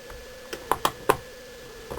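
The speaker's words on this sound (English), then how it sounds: "start by removing the keyboard." Removing the keyboard from an Asus W3J laptop gives a few sharp plastic clicks and taps close by, several clustered in the middle and one more near the end.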